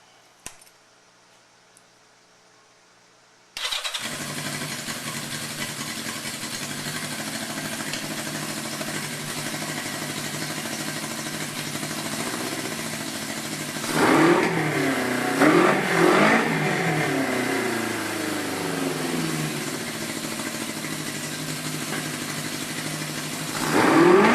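A 1988 Yamaha Radian motorcycle fitted with pod air filters and a fuel tank bag starts up and settles into a steady, close idle, then revs sharply several times and returns to idle before a final rev.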